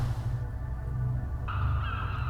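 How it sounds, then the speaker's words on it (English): Seabirds circling above a beach in the adventure game The Last Door, honking and cawing calls over a low steady hum, with a brighter, sharper cry entering partway through. "Many birds circle in the sky overhead."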